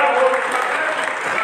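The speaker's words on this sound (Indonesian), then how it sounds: "tepuk tangan dong untuk gembala" A church congregation applauds for the pastor, a steady wash of clapping from a crowd, fairly loud and continuous.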